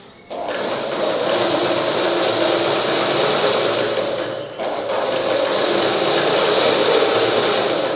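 A sewing machine stitches a dart along a cut fabric edge, running loud and steady after a brief start, with a short dip midway before it continues whirring close by.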